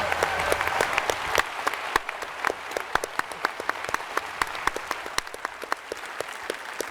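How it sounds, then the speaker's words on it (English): A crowd at PAX East applauds Ian after a Mass Effect: Andromeda gameplay session, dense sustained clapping from many hands with distinct individual claps standing out, steady throughout. "So everyone give Ian a round of applause."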